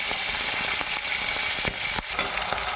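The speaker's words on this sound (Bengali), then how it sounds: "আমরা কড়াইতে চিংড়ি মাছ দিয়ে দেবো। চিংড়ি মাছগুলো ভেজে নেব।" Prawns frying in hot oil in a wok give a steady, loud sizzle with crackling pops and a few sharp spits, with no talking.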